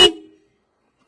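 One very short, loud toot from a Roots Vibromini horn on a Suzuki Access 125 scooter, a clipped car-like blast that rings off quickly into silence.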